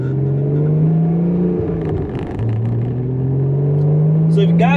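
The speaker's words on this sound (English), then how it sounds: "when you drive like I just did, hard acceleration" A Porsche 981 Cayman S engine pulls hard under acceleration, a loud, steady droning note that climbs in pitch with a brief dip partway through, heard from inside the car with no talk.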